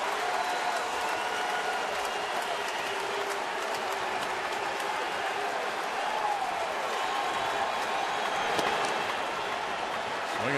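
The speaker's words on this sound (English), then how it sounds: "Now the cheer as they all see that 3 go up for the Phillies." Baseball crowd at Minute Maid Park in Houston, Phillies game, sustained broad roar and cheering throughout, steady and loud with a few whistles and shouts rising from the stands.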